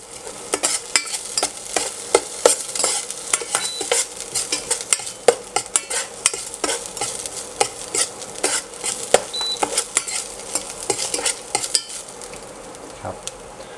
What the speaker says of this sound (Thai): แล้วก็จะผัดสักครู่หนึ่งให้มันหอม